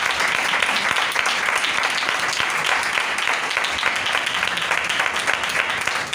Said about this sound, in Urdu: خدا کے کلام کے لیے زوردار تالی بجائیں، زوردار تالی